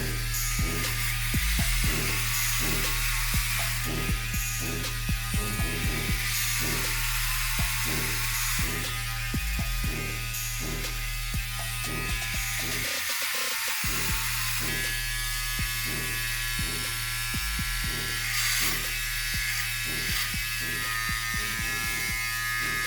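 Philips OneBlade Pro electric trimmer cutting through thick hair, a loud, close buzzing hum that dips and strains in repeated bursts as it moves through the hair, with one brief cutoff midway.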